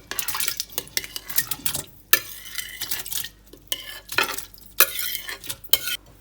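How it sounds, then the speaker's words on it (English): Sliced mandarin and lemon being dropped and moved about in a pot of water, a run of close clatters, clinks and stirring scrapes that come in uneven bursts with short pauses between them. "And then we're going to add the mandarin and the lemon that I sliced up."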